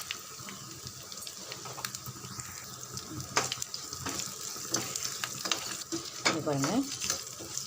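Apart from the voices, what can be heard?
vadagam frying in oil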